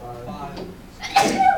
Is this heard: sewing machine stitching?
no